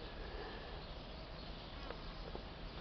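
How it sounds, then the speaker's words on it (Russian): Honeybees fly out of a hive in winter, buzzing close by in a continuous busy hum with a few individual bees passing nearer. "вылетели немного пчелы."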